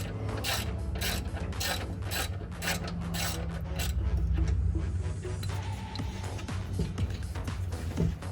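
Ratchet clicking in quick repeated bursts while loosening the V-band clamp on a Ford Focus RS downpipe, close and steady, with metallic rubbing and shifting in the background toward the end.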